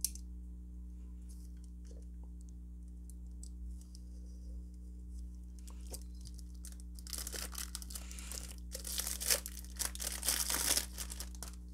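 Unboxing a Legras fountain pen: soft crinkling and tearing of packaging, faint at first and then busier and louder in the final seconds over a steady low electrical hum, with no talking.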